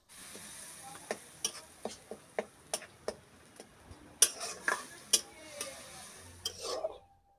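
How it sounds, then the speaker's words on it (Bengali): A spoon scrapes and clicks against a pan in a slow, regular rhythm while spice masala is stirred and fried for a vegetarian jackfruit and paneer curry, with a faint sizzle beneath, then stillness. "এবারে আমি মশলাটাকে ভালোভাবে কষিয়ে নেব।"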